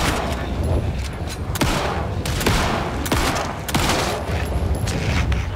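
Pistol gunfire in an Alan Wake 2 boss fight, heard as a dense, loud run of shots with sharp repeated cracks over a constant noisy game background.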